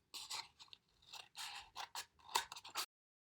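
Scissors snip a cup into strips, giving a series of short, crisp cutting crunches in irregular bursts, close and quiet with no talk.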